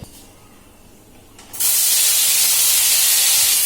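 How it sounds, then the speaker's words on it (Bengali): Pieces of pointed gourd (potol) hit hot oil in a wok. After a quiet moment, a sudden loud, sustained sizzle bursts in and holds steady, close and bright. "তেলটা গরম হয়ে গেছে এরপর পটলগুলো দিয়ে দেবো"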